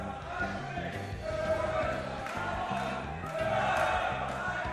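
Crowd at an esports event, the Germany vs USA international crews winners final, chanting continuously at a steady loud level, with swells in volume partway through and a dense roar throughout.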